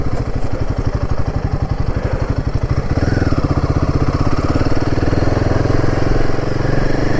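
A Royal Enfield Himalayan 450 adventure motorcycle with a 450cc engine thrums up close while riding, with a rapid pulsing beat that turns into a denser, steadier drone partway through.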